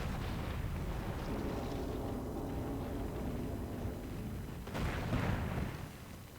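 A video game explosion sets off after a scanner locates a target to blow up: a sustained low rumble underlies the whole stretch, then a sharp burst swells near the end and slowly fades.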